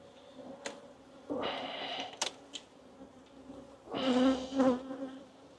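Honeybees hum around an open hive as frames are checked for apivar strips and the queen, the buzzing swelling in two louder bursts against a quieter steady drone.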